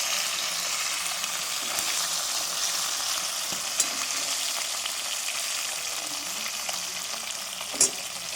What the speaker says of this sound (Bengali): আমাদের এতে আবার কড়া করে না ভাজলে হবে না